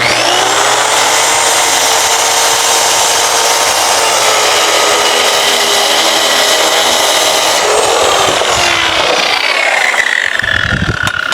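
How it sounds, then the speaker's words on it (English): A power saw rips through a wooden joist up close, a loud, steady whining cut lasting several seconds before the motor winds down at the end, with no talking. "Even though I'm using the square to guide the saw"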